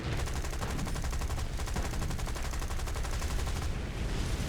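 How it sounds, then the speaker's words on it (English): Rapid bursts of gunfire and explosions from bombs going off in the War Thunder combat game, a dense, continuous barrage that stays loud throughout with repeated crackling impacts. "Let's see these bombs go off."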